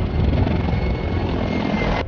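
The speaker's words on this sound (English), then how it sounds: "one of the Apache helicopters began to lose control while flying right above her" An Apache helicopter roars loudly and steadily close overhead, with a dense rotor and engine rumble that cuts off abruptly at the end.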